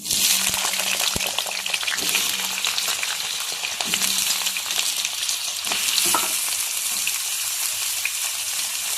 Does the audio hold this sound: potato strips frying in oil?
yes